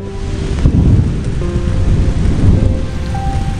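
Steady heavy rain pours through a stormy night with low rumbling thunder, the roar of the downpour constant and close throughout, set against a pine woodland with a music bed faintly underneath.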